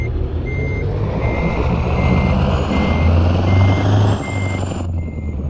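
A Mack truck with an E9 V8 engine in American Truck Simulator reverses, its backup alarm beeping in an even repeating rhythm over a loud, steady diesel rumble, ending with a brief hiss.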